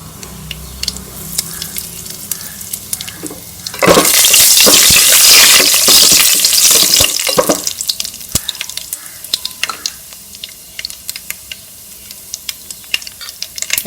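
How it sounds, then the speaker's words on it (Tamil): Mustard seeds, urad dal, chana dal and asafoetida drop into hot oil for a South Indian tempering, bursting into a loud, dense sizzle with crackling pops that fades to scattered spattering as stirring continues. "ஆயில் ஹீட் ஆயிடுச்சு. தாளிச்சு விட்டுடலாம். கடுகு, உளுத்தம்பருப்பு, கடலைப்பருப்பு,"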